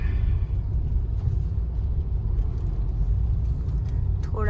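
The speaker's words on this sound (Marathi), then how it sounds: "थोडा ट्रॅफिक" Evening road traffic in the rain during a Ganesh festival outing sends a steady, loud low rumble of passing cars and motor vehicles, continuous throughout, with faint voices in the background.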